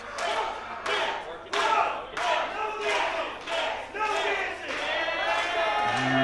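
A wrestling crowd in a video game, cheering and chanting in rhythmic surges with thuds between them, loud and continuous, with a voice talking over it.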